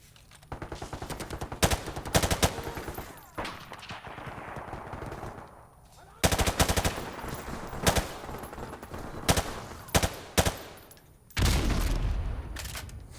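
Loud, close bursts of automatic gunfire in Call of Duty: Modern Warfare Remastered during a custom multiplayer match, with rapid rattling volleys broken by brief gaps and heavy booming shots.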